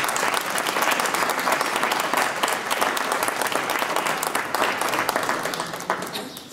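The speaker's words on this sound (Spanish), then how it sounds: "Recibámosles con otro fuerte aplauso" A concert audience gives strong, dense applause to welcome a plucked-string orchestra at a music week in Novelda, sustained and loud throughout before tapering slightly at the end.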